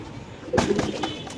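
Healthy pigeons on a large pigeon farm coo softly in the background, with a brief louder burst of cooing and fluttering midway through and faint voices nearby.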